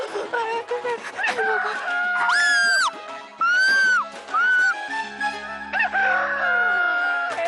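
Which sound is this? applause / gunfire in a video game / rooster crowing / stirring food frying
rooster crowing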